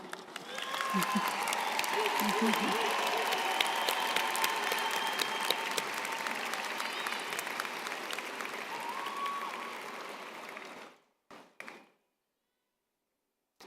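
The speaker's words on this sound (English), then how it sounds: "let's do a quick clap for them as well" A commencement audience claps for graduates, dense sustained applause that fills the room for about ten seconds before thinning out to a few scattered claps and then silence.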